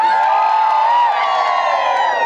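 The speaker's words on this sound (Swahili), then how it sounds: "Pigeni makofi kwa Daktari Samia." A political rally crowd in Nyakabindi cheers and applauds for Dr. Samia, a dense, steady roar of clapping and shouting that fills the whole stretch, loud and close.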